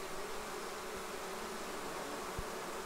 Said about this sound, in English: Kind of an undercurrent of bees.